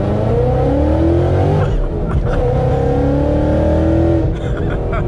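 Supercharged Ford Mustang accelerating hard in first gear from a launch, a loud close engine roar with rising supercharger whine and revs climbing in two pulls, a brief shift-like dip between them.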